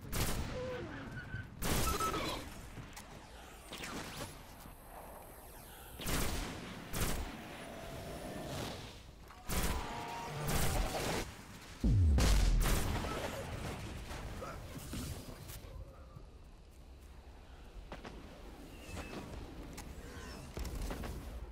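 Gunfire in the video game Destiny on Venus, dense bursts of shots and impacts repeating throughout, with a heavy close blast midway and game effects underneath.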